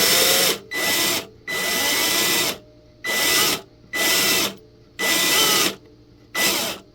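A power drill boring a strap button hole into a guitar body, seven loud whirring bursts of about half a second to a second and a half each, separated by short pauses.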